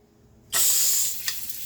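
Garlic drops into hot vegetable oil and bursts into a loud, bright sizzle that starts suddenly, then holds steady with a small pop near the end, close up.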